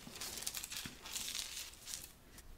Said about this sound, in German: Dann legst du den Regenbogen nochmal rauf und dann schneidest du wirklich halt grob um den Regenbogen herum.